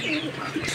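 Pigeons at a market stall with a pair offered for sale with eggs coo in a brief, dense burst of murmuring bird calls, close and steady.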